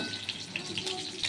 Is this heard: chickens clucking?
no